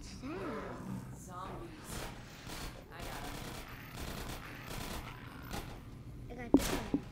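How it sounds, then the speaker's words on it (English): Zombies roaring in the first-person shooter Half-Life: growling, rumbling roars repeat over several seconds amid bursts of rapid gunfire and game noise, ending with a couple of sharper hits. "What in the world is that? Zombies."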